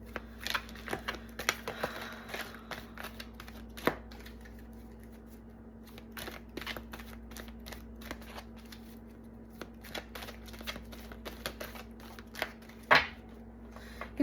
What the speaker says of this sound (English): You guys can let me know whether or not you like the shuffling on camera or not